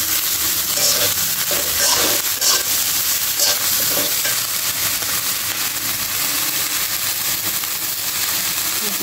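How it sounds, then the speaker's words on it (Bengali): Vegetables sizzling loudly in a hot pan with salt, turmeric, coriander, chili powder and ginger-cumin paste, stirred steadily with a spatula, a dense continuous frying hiss with scraping strokes throughout. "ভালো করে নাড়াচাড়া করে মশলার সাথে সবজিগুলো কষিয়ে নেব।"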